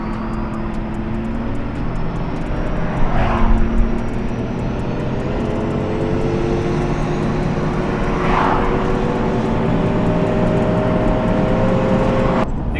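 A Power Stroke 6.7 compound turbo diesel truck towing a 30,000 lb trailer accelerates, its engine giving a loud, sustained drone with steady turbo whine and rising pitch, heard from the cab without talk.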